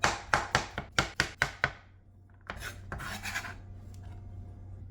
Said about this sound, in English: my mushrooms are sliced